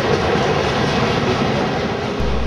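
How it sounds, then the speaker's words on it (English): A train rolls steadily across double-track railroad diamonds at a rail park, a loud continuous rumble and rattle of wheels close by with no voices. "There are very few places in the US where you can experience train watching like this every day."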